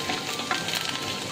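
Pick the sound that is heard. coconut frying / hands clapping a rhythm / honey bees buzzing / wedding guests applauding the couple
coconut frying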